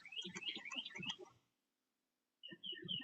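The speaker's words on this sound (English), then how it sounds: "can hear my birds in the background." Pet birds chirp indoors, quick bright tweets and warbles in two bursts with a silent gap between, close but fairly soft.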